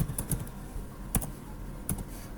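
Keys clatter on a computer keyboard as Java code is typed in short bursts with brief pauses, a few sharper clicks standing out close by.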